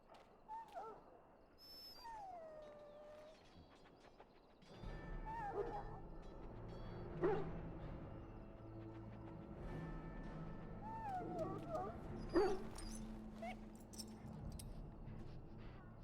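Dog in Dragon Age Origins, a wounded hound being treated, gives high whimpering whines amid game ambience and low rumbling background, with faint jingling and brief yips scattered through.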